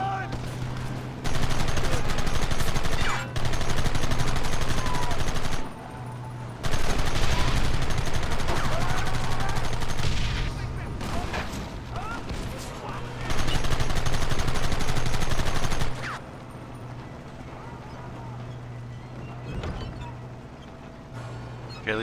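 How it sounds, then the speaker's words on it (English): Rapid bursts of gunfire from Red Dead Redemption crackle in several long volleys, near and loud, with short pauses between them and a quieter stretch at the end. "Kalie, if you keep shooting,"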